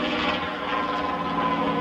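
Canadair CF-5 Freedom Fighter jet performing a four-point hesitation roll at an air show, giving a steady, fairly loud broadband engine roar that holds without a break.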